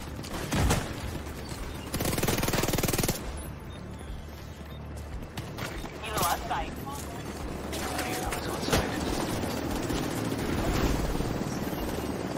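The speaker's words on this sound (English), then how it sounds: "Extraction helo. Almost within range." Extraction helicopter in The Division 2 video game, a low steady rotor rumble with bursts of gunfire and explosions, sounding continuously under excited talk from players.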